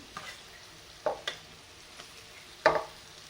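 Rice is stir-fried in a pan for cauliflower fried rice, with a low, faint sizzle and a few distinct spatula scrapes and knocks at irregular intervals, close by and without speech.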